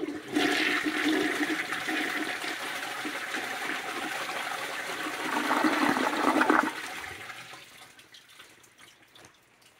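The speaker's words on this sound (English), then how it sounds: "Pretty quick flush for a 50s toilet." A 1958 Briggs Ambassador toilet, with its water level sitting slightly low, flushes in a strong, quick rush that swells briefly before cutting off into a fading gurgle and soft trickle.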